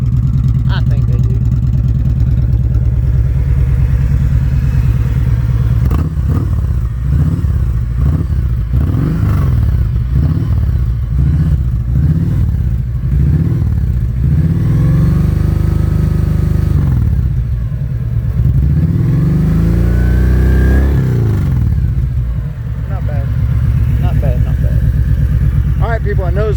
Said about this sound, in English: You can hear what they sound like while I'm on the bike just riding.